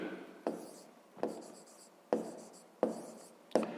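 Handwriting a maths solution: five short scratchy pen strokes come in an even rhythm, each a quick rasp that fades away, close up and quiet, with no talking.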